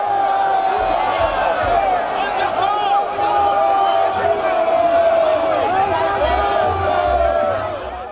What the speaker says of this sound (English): The crowd surged as each person tried to have a better sight of the governor and his wife.